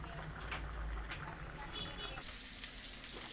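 Food frying in a pan alongside a vegetable dish, giving a steady soft sizzle close by, with a brighter hiss swelling near the end and a voice talking over it.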